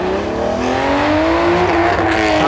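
A powerful Aston Martin V12 engine revs hard nearby on a track, its pitch climbing steadily in a loud, continuous roar.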